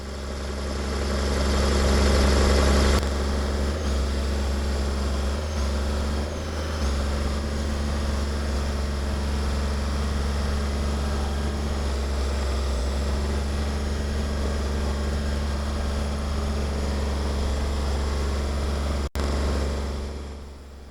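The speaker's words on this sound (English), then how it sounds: "let's get this Dozer down the hill, about 2 miles to our place" A CAT D7 bulldozer's heavy diesel engine rumbles steadily and loudly up close for the whole stretch as the machine heads down a hill, a constant low drone with slight variations and no voices.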